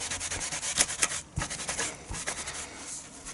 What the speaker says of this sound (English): I'm just going to take a clean cloth like this and really rub it across